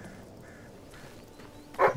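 A companion dog in Fable 3 gives a single short bark near the end, loud and close over a quiet game ambience.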